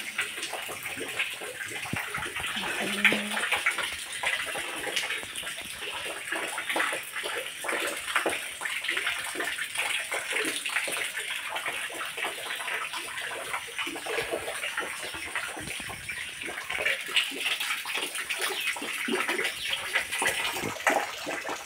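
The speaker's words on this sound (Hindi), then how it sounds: "और पानी जो है वो नेचुरल है, अपने आप ही निकल रहा है।" Natural spring water flowing out on its own at a mountain shrine on a pilgrimage trek, a steady broadband rush and splash that runs continuously and fairly close, with faint birdsong above it and no talk.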